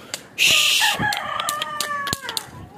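Chickens on a rooftop give a burst of loud squawking clucks followed by shorter clucks and calls, close by and over light background noise.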